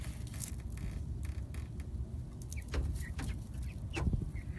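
Ten-week-old backyard chickens on their first full day outdoors make soft, scattered clucks and short calls over a low, steady outdoor rumble, fairly faint and a little distant.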